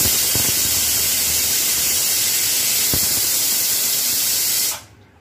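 Pressure cooker whistle venting steam while chicken biryani cooks, a loud continuous hiss close by that holds steady for several seconds, then cuts off abruptly.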